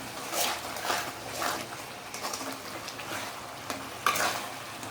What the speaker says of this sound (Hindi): अब मैं इन दोनों के साथ इसको फ्राई करूँगी। लगभग 10 मिनट ये और फ्राई होगा।